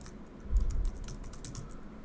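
Password typed on a computer keyboard, a quick run of soft close key clicks in an uneven rhythm over faint room hum, no speech.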